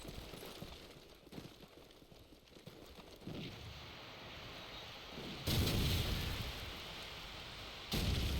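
Gunfire and grenade blasts in the game Call of Duty 4, rumbling explosive bursts and muffled shots with two sudden loud booms in the second half, over a continuous noisy background.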